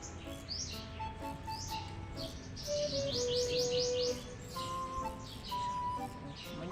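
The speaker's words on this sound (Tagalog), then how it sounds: "Dami ibon," A flurry of bird chirps and short tweets rises and falls, with a brief rapid trill in the middle, over a low ambient background.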